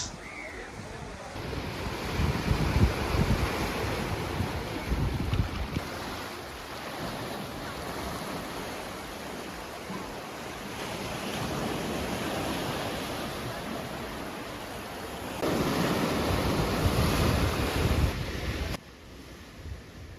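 Ocean waves at Anjuna Beach in Goa roll in as a steady broadband wash mixed with wind buffeting the microphone, surging louder near the end before easing off; no one speaks.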